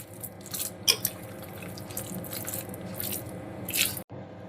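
A pomegranate-seed salad is gently stirred in a bowl, producing soft close squishing, clicking and moist crunchy rustles of seeds and dressed ingredients, with no talking.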